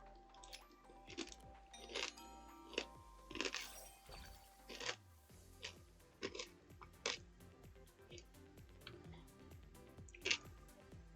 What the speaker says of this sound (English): Not me crunching foods live on stream.